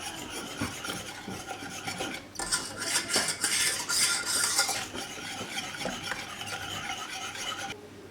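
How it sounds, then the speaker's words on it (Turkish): Milk pudding cooking in a pot is stirred continuously, a utensil rasping and scraping against the pot bottom in steady close strokes that grow busier and louder in the middle, with no talk. "Tabi arada muhallebiyi karıştırmayı ihmal etmeyin ki kabuk bağlamasın."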